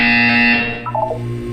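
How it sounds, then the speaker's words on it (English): A loud, steady electronic buzzer in the Portal 2 video game sounds for about half a second and then cuts off into quieter fading tones. "You will hear a buzzer."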